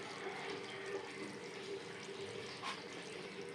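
Cooked matar dal is poured out of the pan with a soft, steady liquid splashing that stays faint and continuous throughout.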